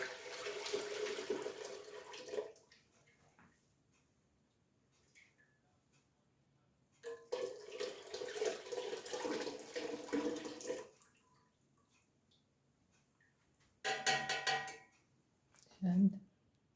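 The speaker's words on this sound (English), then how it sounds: "now I'm going to run it through several more strainers just to get a lot of the sediment out of it" Homemade vegetable broth streams through several strainers to remove sediment, heard as three separate bursts of splashing pouring with quiet pauses between them and a brief clink at the end.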